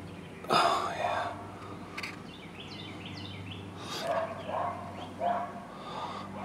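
Dogs near a 1977 GMC Kingsley motorhome bark in several sharp bursts, mixed with yips and whimpers, fairly close and loud, spread irregularly across a few seconds over a low steady background hum.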